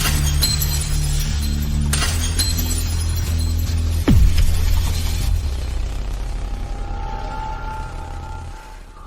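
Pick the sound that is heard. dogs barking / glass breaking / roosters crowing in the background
glass breaking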